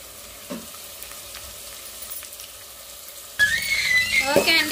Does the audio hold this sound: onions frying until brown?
yes